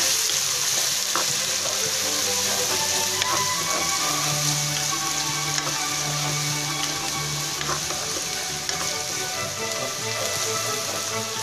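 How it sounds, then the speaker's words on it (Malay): Ingredients for chicken kurma sauté in a pan with a dense, steady sizzle like light rain, broken by scattered stirring clicks and scrapes, close and unbroken. "kita tumiskan sampai dia keperang-perangan ya"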